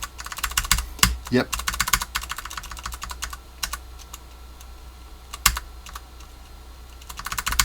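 Keystrokes on a TX75 mechanical keyboard fitted with Ergo Clear Cherry switches, bursts of crisp close clacks with pauses between, and a brief spoken word partway through.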